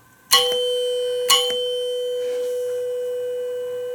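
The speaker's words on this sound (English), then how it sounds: "It's an older bell, and it sounds like a cowbell" Two loud metallic strikes of an old elevator bell about a second apart, each ringing with a bright, sustained clang like a cowbell, slowly fading out with no talking.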